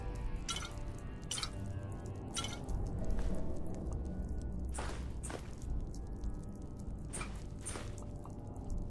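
Water leaks from a ceiling in the Fallout 4 video game, dripping in irregular close splats over a steady low background, with no voices.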